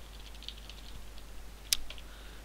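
Soft, quiet keystrokes as code is typed on a computer keyboard, a light irregular patter with one sharper click near the end over faint background hum.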